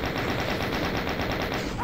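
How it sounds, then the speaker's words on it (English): Rapid automatic chain gun fire in a video game, a dense unbroken stream of loud, evenly spaced shots running the whole stretch with no pauses. "I think I see what the chain gun is for."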